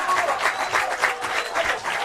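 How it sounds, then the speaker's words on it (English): Football crowd at a Southern Championship match between University and Hobart United applauds steadily as a substituted player leaves the field, a sustained patter of many hands clapping at moderate distance. "John Booger will get a very, very loud round of applause as he comes off"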